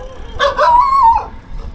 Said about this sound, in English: These dogs are absolutely crazy.